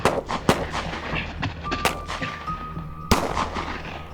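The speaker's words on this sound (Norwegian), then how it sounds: "I skuddvekslingen ble Værum drept." Gunfire from an exchange of shots as Gestapo agents storm an attic to make an arrest in wartime Telavåg, Norway: several sharp, loud cracks at irregular intervals, with a brief tone in between and no speech.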